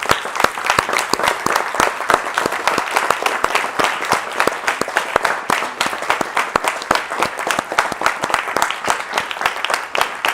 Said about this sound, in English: Give Miss Yahuwah a hand clap.